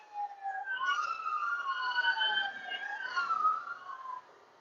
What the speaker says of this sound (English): that was a police car coming by